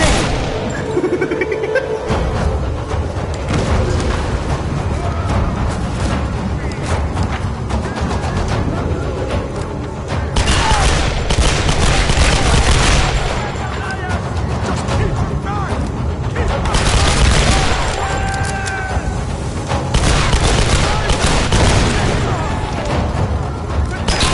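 Gunfire in the Tomb Raider Definitive Edition video game, loud repeated shots and booming impacts in dense bursts across a long stretch, with a voice talking over the action.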